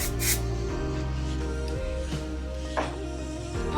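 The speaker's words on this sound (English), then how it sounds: "Go ahead and put in some more texturizing spray if you want." Texturizing spray misted onto freshly washed hair: a short, crisp hiss near the start and a fainter spritz later, both over steady background music.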